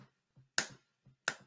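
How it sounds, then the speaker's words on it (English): Two sharp, crisp finger snaps about 0.7 seconds apart, close and fairly loud, with faint soft taps between them and no talking. "snapping your fingers"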